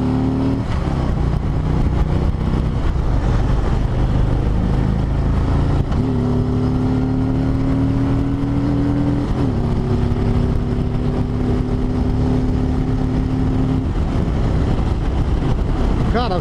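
A 2020 Harley-Davidson Ultra Limited motorcycle cruising at highway speed, its engine holding a steady, continuous drone with a brief shift in pitch partway through, heavy wind rush layered over it and a voice talking throughout.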